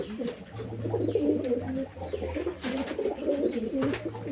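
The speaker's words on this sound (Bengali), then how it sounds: "বন্ধুরা পায়রাগুলো প্রথম খাইয়ে নিই দেখুন কেমন খাচ্ছে" Pigeons, including many black ones, coo steadily and repeatedly while pecking at plain wheat and a little paddy, a close, continuous murmur of low rolling calls through the whole stretch.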